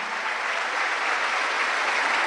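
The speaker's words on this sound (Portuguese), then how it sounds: "Pode aplaudir, porque é verdade." A church congregation applauding during a talk, a dense steady wash of clapping that stays loud and even for a couple of seconds with no voices over it.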